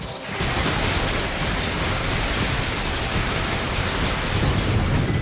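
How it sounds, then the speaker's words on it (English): The Lightning Rain power in the InFamous game unleashes a continuous, loud roar of storm-like crackle and rumble, a thick wash of thunderstorm noise that holds steady for several seconds. "Before the final pursuit, we get our last power, the Lightning Rain."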